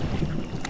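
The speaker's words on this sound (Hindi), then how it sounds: "पानी की आवाज बहुत ही मधुर लग रही थी" Water lapping and splashing around a small rowed boat, a soft continuous wash with low rumble and light wind noise, steady and close with no talking.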